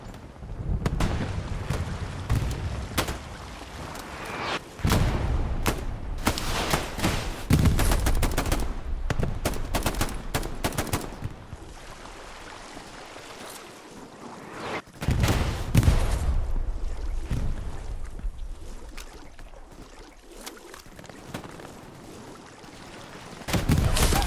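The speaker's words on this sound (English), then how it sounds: "But the artillery cleans it up." Heavy gunfire and booming blasts roll through a Hell Let Loose match on the Carentan Causeway map, Purple Heart Lane, with repeated loud bursts, dense crackling volleys and deep thumps that rise and fade over the whole stretch, no talk.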